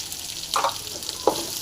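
Onions, green chillies and curry leaves fry in a pan for green pea sundal, giving a short, close, steady sizzle with a couple of soft stirring scrapes.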